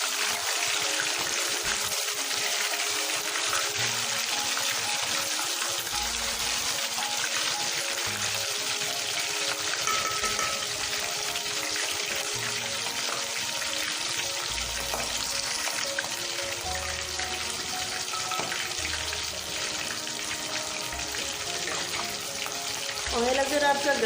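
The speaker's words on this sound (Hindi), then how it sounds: "ऑयल अगर आपका गर्म है ना तो बहुत ही अच्छे से ये फ्राई होगी।" Fish rubbed with garlic and carom seeds browning in hot oil for masala fish curry, a continuous dense sizzle with scattered stirring clinks and scrapes, loud and close for the whole stretch.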